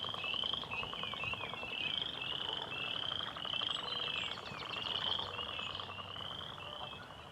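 Frogs call outdoors at night in early spring, a continuous chorus of trilling, muttering croaks layered with high insect-like chirps, steady and moderately distant with no voices.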